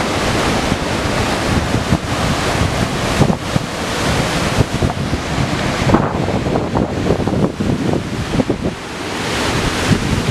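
Floodwater from the opened dam gates on the Purgatoire River near Trinidad, Colorado makes a loud, continuous rushing roar, heavily buffeted by wind on the microphone.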